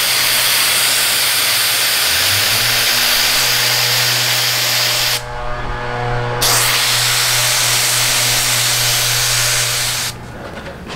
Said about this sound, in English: So I've purchased a portable blaster from Harbor Freight and some walnut shells.